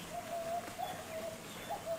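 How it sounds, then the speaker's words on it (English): Pied imperial pigeon cooing in Australian rainforest, a faint, soft repeated coo with gentle pauses against quiet background. "They are pied imperial pigeons."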